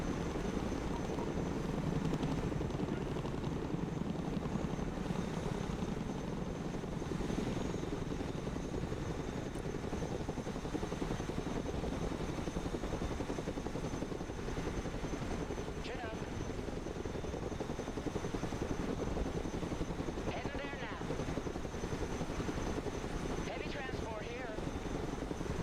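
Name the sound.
cargo helicopter flying, from the video game Broken Arrow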